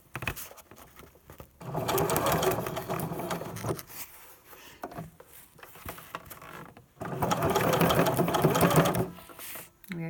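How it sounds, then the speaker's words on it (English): A sewing machine runs a straight stitch up the edge of elastic edging in two long motor runs, close and fairly loud, with a short pause and handling sounds between them and a voice speaking quietly at times. "I'm just going to change to a straight stitch and just do a little bit of a straight stitch up the edge"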